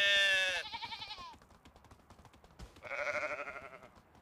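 Bleating sheep from the video game Medieval Dynasty, heard in winter: one long, wavering, almost human-sounding bleat, a short pause, then a second drawn-out bleat. The calls are fairly faint, with a soft ticking in the background and no talking.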